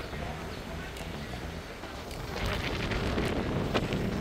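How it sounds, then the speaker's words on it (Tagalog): Wind blowing across Ngong Ping Village, Hong Kong, a steady broadband rush that strengthens in gusts partway through, close on the microphone and buffeting it. "Mahangin, guys, kung naririnig nyo"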